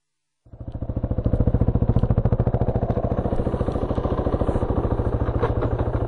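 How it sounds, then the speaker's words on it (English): A Husaberg FE450e off-road dirt bike starts up and settles into a steady, fast single-cylinder thrum, a close, even pulsing exhaust note with light mechanical clatter. "the Berg gives its riders a full body experience with the healthy exhaust note, thrumming engine"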